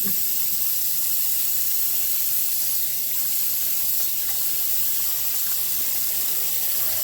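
Water pours from a tap into a sink in a home knife-sharpening setup, a steady unbroken gushing hiss at close range throughout, with no voices.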